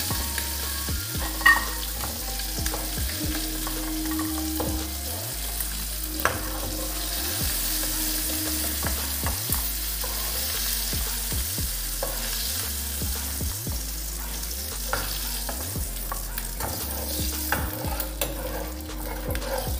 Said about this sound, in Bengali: কাঁকড়াগুলো ভালো করে ফ্রাই করা হয়ে গেছে